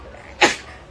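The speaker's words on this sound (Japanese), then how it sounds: "くしゃみが止まらないぜ" A woman sneezes once, a single sharp burst close to the mic that stands out from a quiet background.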